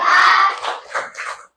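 Children in a primary school classroom clap hands in a unison clapping game, a burst of rhythmic claps with crowd-like shouting, followed by a few shorter clap groups, close and fairly loud.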